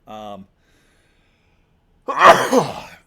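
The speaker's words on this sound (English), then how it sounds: "I got a sneeze coming on me." A loud, breathy sneeze bursts out after a short vocal sound and a pause of silence, close to the listener.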